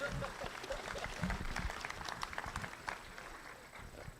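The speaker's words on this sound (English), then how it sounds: "Let's give them a round of applause, please." Applause from the guests at an inaugural ball in a gymnasium, a soft, distant wash of many hands clapping steadily throughout with no voices on top.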